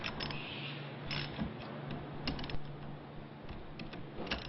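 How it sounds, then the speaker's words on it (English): A ratchet wrench makes quarter-turn passes on the screws of a Climax Series C733 shrink disc, giving repeated bursts of fine clicking and pawl ticks with metallic creaks, close and moderately loud, with no voices. "after making several passes with my ratchet wrench"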